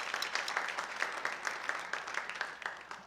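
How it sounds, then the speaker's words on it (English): Church congregation applauding youth and family ministry members during a service, a fairly faint, distant patter of many hands with individual claps standing out, no speech over it. "So I think we should give them all another applause."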